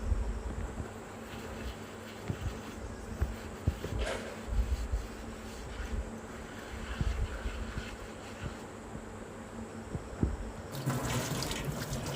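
A kitchen tap runs continuously while puja vessels are scrubbed with a soapy scrubber, with scattered clinks and scraping over the steady water and a louder gush near the end.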